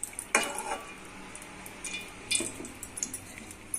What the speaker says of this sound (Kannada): ಇವಾಗ ಎಣ್ಣೆ ಹಾಕ್ತೀನಿ